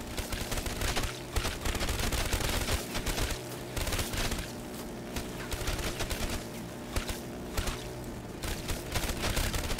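The Death Machine fires continuously in a Call of Duty custom zombies game, a dense, rapid, loud stream of gunfire rattling almost without pause throughout.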